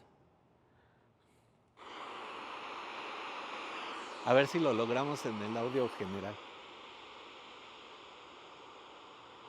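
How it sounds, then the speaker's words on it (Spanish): Recorded sea waves play from an iPhone's small speaker as a steady washing hiss, with a voice talking over the middle of it. "¿Cómo se oye el mar, no?"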